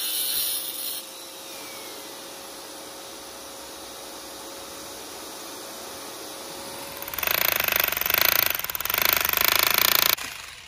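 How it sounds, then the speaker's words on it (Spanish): A power drill bores small pilot holes into the tile joints along a concrete pool edge during a pool remodel: a quiet hum first, then two loud, close bursts of grinding drilling. "Se le hace un pequeño hoyo para poder guiar el tornillo."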